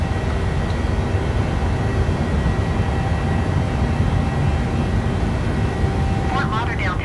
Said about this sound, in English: Caution the Boeing 737, taking off runway 10 left.